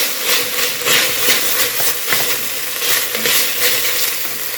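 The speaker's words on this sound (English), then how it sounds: "Let's stir that around a little bit." Chili beans being stirred in a pot, a close, continuous scraping and bubbling sizzle with soft rhythmic strokes and a steady hiss underneath.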